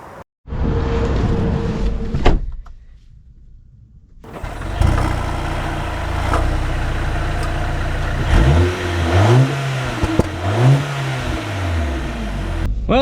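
A 2025 Mercedes AMG GLA 35 SUV accelerating, its engine droning loud and steady after a brief quiet spell, then rising and falling in repeated revving sweeps as it pulls away.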